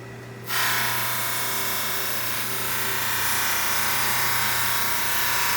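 A SuperMax 25-50 drum sander switches on abruptly and runs at a steady, loud, continuous whine with a low hum underneath, no voices.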